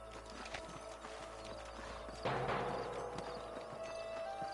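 Horses' hooves clip-clop in a video game, a quick, close, fairly quiet patter that grows a bit busier partway through, with a faint whinny-like sound and no talking.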